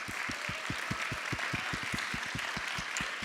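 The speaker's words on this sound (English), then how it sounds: "Let's give a round of applause for our artists again tonight" Applause for artists at a new-works premiere performance at the Tarkington, a steady wash of audience clapping with a faint regular low thump pulsing underneath throughout, moderately loud and continuous.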